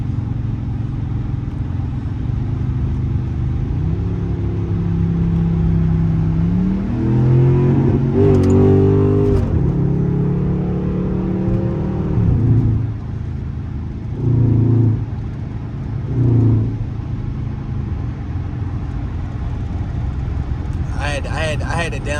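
A modified Gen 7 SRT car engine rumbles loudly, with revs rising and falling and a couple of surges partway through, then settling into a steady drone near the end.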